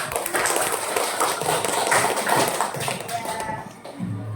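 A school class claps after a lesson, giving a dense, continuous patter of hands that stays loud throughout and fades slightly at the end.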